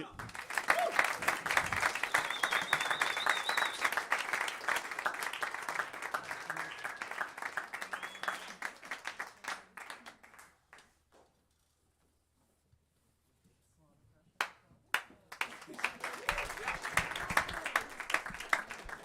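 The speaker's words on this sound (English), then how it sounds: "give yourselves a round of applause" Memorial audience breaks into sustained applause with scattered whoops, clapping fading out to near silence midway, then a few isolated claps before another burst of applause rises at the end.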